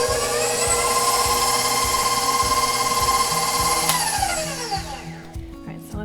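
An electric stand mixer creams butter and sugar for sugar cookies, a steady loud whirring motor with a repeating rhythmic beater thump that continues throughout, slowing and fading slightly near the end.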